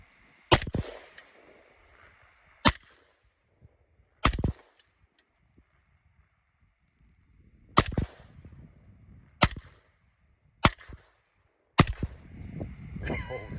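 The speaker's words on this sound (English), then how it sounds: "Gonna shoot about 15 rounds each." Suppressed Vietnam-era M16A1 rifle with an HEL E4A silencer firing at a target outdoors: seven sharp, muffled reports spaced unevenly a second or two apart, each with a brief tail, followed by shuffling noise.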